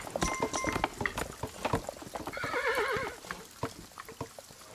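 Horse in Kingdom Two Crowns whinnies loudly in a wavering neigh midway, surrounded by quick clip-clop hoofbeats and light splashy, gurgling game sounds.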